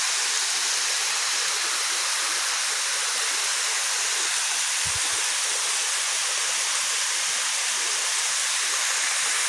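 Tobo-Tobo Mini Falls in Matalom, Leyte, Philippines, a small waterfall giving a steady, full rushing roar of falling water, with one brief soft thump partway through.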